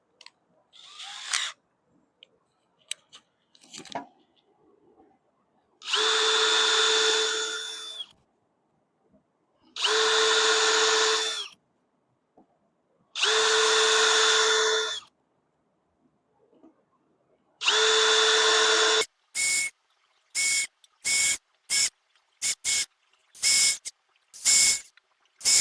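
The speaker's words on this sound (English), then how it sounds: "Putting that drill bit up in there as far as it'll go." A power drill bores holes in a metal mailbox face plate in repeated whirring bursts of a few seconds each, followed by a string of quick short trigger pulses, with quiet handling clicks in between.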